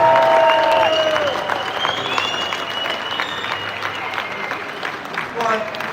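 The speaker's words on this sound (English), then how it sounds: "So give them a round of applause" Outdoor crowd applause at a London protest, strong clapping and some cheers that start loud and gradually ease off, with a few voices scattered through.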